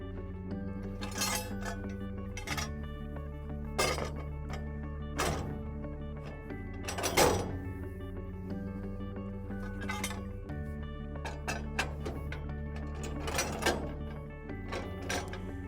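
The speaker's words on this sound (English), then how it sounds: "we're ready to place them into the sockets in the back of the Equipter" Metal rear extension arms are set into the rear sockets of an Equipter RB4000, giving a series of close, hollow metallic thunks and clinks at irregular intervals.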